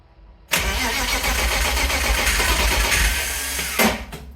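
A BMW E36 car engine cranks and catches, then runs loudly and steadily for a few seconds before cutting off.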